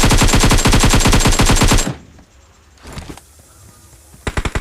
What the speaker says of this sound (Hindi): तभी एक और एनिमी फायर देने लग जाता है।